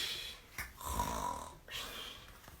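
A voice imitates loud snoring, mimicking a dad napping with his cat on his tummy: two drawn-out, rasping snore breaths with a pause between, close and fairly loud.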